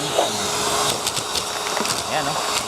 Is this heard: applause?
no